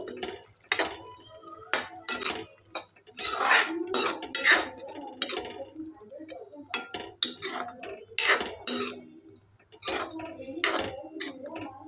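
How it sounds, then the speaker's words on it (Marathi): Spoon clinking and scraping against a pot while sugar is stirred into a spicy moth bean curry, irregular close metallic taps and scrapes with brief pauses. "हे मी आता व्यवस्थित मिक्स करून घेऊ."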